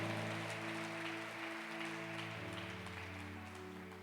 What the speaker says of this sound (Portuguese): Dê uma salva de palmas a Ele bem forte.